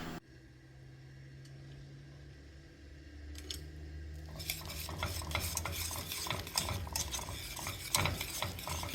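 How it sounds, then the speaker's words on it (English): Shrimp stirred in melted butter in a pan while cooking grits and herb shrimp, a soft low sizzle giving way to busy, close scraping and stirring clatter that grows louder over the second half. "Once that butter melts, I'm going to toss in the shrimp."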